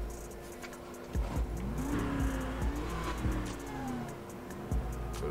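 A Dodge Durango Hellcat is driven in the GTA 5 video game, its engine revving up and down in repeated rising and falling sweeps with brief tire squeals, loud and continuous with no talking.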